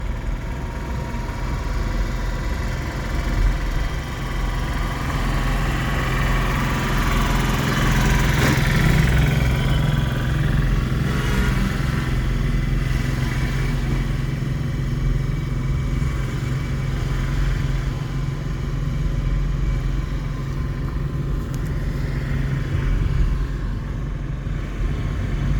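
A driving-school training car on a road in Ranchi, its engine droning steadily from inside the cabin. The hum holds constant and fairly loud, with a slight swell partway through as the accelerator is pressed.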